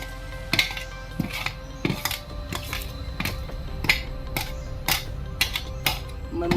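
Grated coconut roasting in a pan over a low flame, with a utensil stirring and scraping through it in repeated light clinks and scrapes against a steady low background, close and fairly quiet, no talking.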